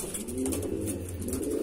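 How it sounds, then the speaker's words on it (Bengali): A blind-eyed pigeon at a pigeon sale coos in a steady, low, rolling drone close by, lasting the whole moment with no talk over it. "একদম অন্ধের পায়রা"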